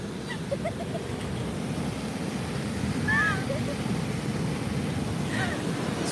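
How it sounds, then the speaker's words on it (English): Pacific Ocean waves along the California shore make a steady, low rumbling wash of surf, mixed with wind buffeting and a few faint chirps. "Look at the waves."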